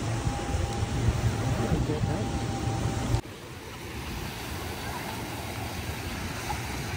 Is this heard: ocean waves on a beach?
yes